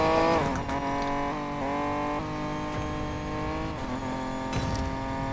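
A tuned street car revs and accelerates in Need for Speed Payback, its engine droning loud and steady close up, with pitch rising and dropping through several gear shifts.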